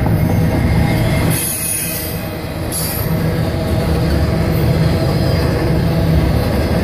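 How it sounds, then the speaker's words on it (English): Train rolling past the Santa Fe depot at Fort Madison, loud and near, a continuous rumble with sharp, high wheel squeals rising above it, no voices. "I heard the train come and had to run out here and get it."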